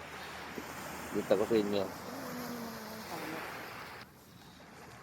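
Sea waves and wind along the shore at Dilasag, Aurora, a steady broad wash with buffeting wind on the microphone, while a person speaks briefly over it.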